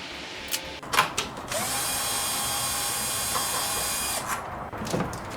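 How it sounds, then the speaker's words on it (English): A power tool with a 10mm socket spins out the bolts holding the HEPA filter in a Tesla frunk, a steady close whirring run of several seconds framed by brief clicks and ratcheting bursts. "Now let's remove the HEPA filter with a 10mm socket."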